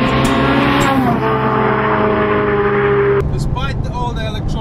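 A mid-engine Ferrari driving on a track, its engine holding a steady loud note from inside the car and then dropping off sharply as the driver lifts, with someone talking over it.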